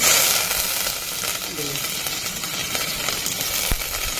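Steady sizzling of curry leaves hitting hot oil, a dense crackling hiss throughout with a brief sharper pop near the end.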